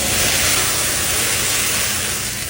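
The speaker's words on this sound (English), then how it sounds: "Now, when it gets really hot, we're going to make flambe." Wine hits a very hot pan of shrimp for a flambé, giving a loud, steady, close hiss and sizzle that fills the whole moment without letting up.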